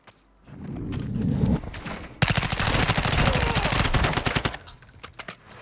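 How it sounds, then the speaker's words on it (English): Rapid automatic gunfire in the video game Call of Duty MW2 DMZ, a loud, dense burst of shots lasting a few seconds, preceded by softer rumbling game noise. "I'm taking fire!"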